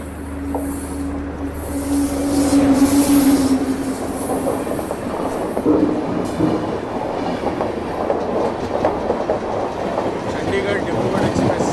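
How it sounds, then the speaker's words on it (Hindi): Two trains cross each other on a curve with a heavy, continuous rumble of rail traffic. Wheel clatter runs throughout, and a thin squeal of wheels sounds in the first few seconds. "वाह, कर्व के ऊपर 2 ट्रेनों की क्रॉसिंग।"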